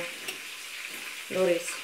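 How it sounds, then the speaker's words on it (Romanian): Chicken meatballs frying in hot oil in a pan, a soft steady sizzle with a louder burst of crackling toward the end, heard close with a brief spoken word. "Eu deja le prăjesc."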